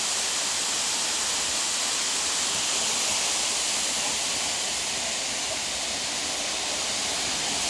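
Rizal Falls pours in a dense, constant rushing hiss of falling water that stays loud and even throughout, with no voices.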